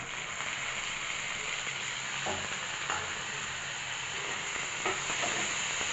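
Tomatoes sizzle steadily in a hot pan, a constant, even crackle and hiss close by with occasional soft stirring clicks and no talk.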